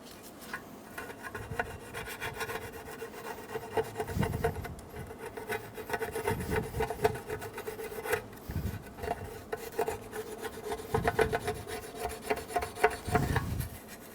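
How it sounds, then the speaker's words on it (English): A scraper rasps old RTV sealant off the rim of a transmission pan from a 2000–2007 Ford Focus, in repeated close strokes with short pauses between passes. "You can use a plastic scraper or a razor blade, go around and get it all off."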